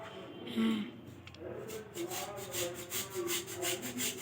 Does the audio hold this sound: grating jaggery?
yes